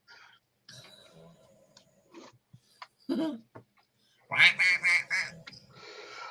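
A duck quacks close by in scattered bursts, then a quick run of loud, raspy quacks before trailing off, with quiet gaps between calls.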